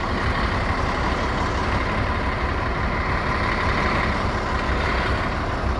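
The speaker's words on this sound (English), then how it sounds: "That's the bus driver." A city bus with air brakes rumbles close by on a street, a steady, loud engine drone that holds even for the whole stretch without pauses.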